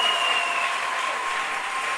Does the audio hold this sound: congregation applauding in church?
yes